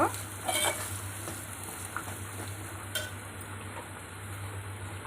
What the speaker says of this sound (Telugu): పసుపు వేసి బాగా కలియబెట్టేసుకోవాలి